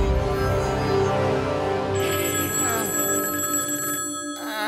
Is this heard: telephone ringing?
yes